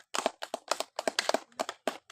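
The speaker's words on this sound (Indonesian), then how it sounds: "Iya, tepuk tangan." Hands clapping in a classroom during a teaching practice lesson, sharp irregular bursts of claps from a small group of students, close and fairly loud, with no talking.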